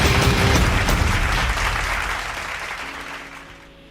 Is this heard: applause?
yes